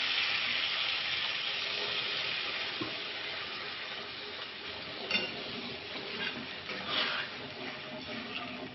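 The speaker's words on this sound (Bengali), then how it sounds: "জল দেবো।" Water poured into a hot pan of sizzling bhetki fish curry, a steady hiss and bubbling sizzle with faint stirring clinks, loud at first then settling softer.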